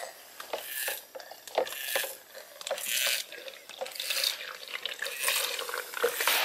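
Lake water is hand-pumped through a filter into a Nalgene bottle, heard as close, irregular squirts, trickles and splashes with a rough rhythm of strokes and no voices.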